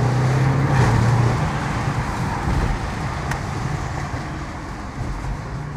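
An Audi RS6 drives along a road with a steady, loud broadband roar of engine and tire noise, slowly easing off a little toward the end; no voices.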